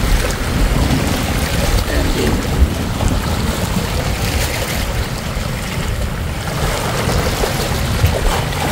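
Waves wash along the seaside at Boulevard road in Masbate City, a steady roar of surf mixed with strong wind buffeting the microphone, with a brief voice talking over it.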